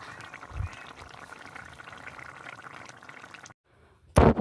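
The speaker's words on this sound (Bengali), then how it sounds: "এখানে দেখো চিকেনটা ভালোভাবে ফুটছে" A pot of chicken curry with added water bubbles steadily at a low simmer, then goes quiet for a moment before a sudden louder burst of noise at the end.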